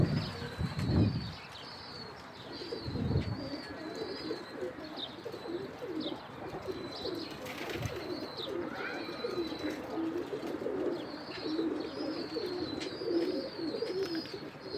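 Pigeons, a group of Basra birds kept by a hobbyist, take off with sharp bursts of flapping wings and later circle with softer wingbeats, while cooing and chirps sound throughout and a few faint birdcalls come from farther off.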